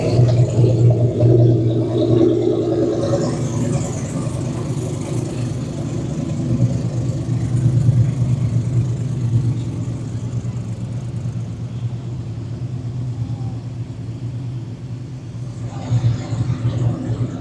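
A drag racing car's engine rumbles and revs at a street race in Rockingham, North Carolina, a loud throaty drone that swells and settles, with voices talking over it.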